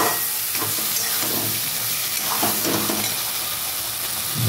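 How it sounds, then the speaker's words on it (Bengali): Pointed gourd and prawns frying in a pan for potol chingri: a loud, continuous sizzle and hiss of hot oil close up, with occasional stirring scrapes and no voices. "এইভাবে আমি ভালো করে এটা কিন্তু ফ্রাই করতে থাকবো।"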